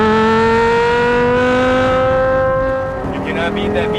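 Porsche Carrera GT V10 engine running steadily and loud, a strong harmonic drone held for about three seconds, then the pitch shifts and rises slightly as revs change toward the end.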